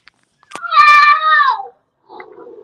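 A blind dog gives a sudden cat-like yowl, one long wavering cry up close, with a softer low vocal sound after a short pause.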